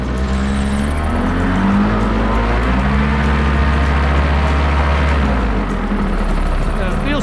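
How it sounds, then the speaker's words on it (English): A paramotor's engine runs up hard and steady before takeoff, a loud continuous propeller drone holding close to the microphone throughout, with wind noise and some talk mixed beneath it. "Here we go, running the engine up."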